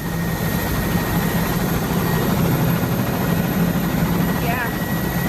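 Helicopter heard from inside the cabin during a honeymoon ride, a loud, steady rotor and engine drone filling the whole clip, with muffled speech under the noise.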